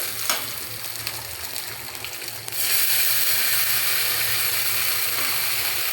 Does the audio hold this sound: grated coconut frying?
yes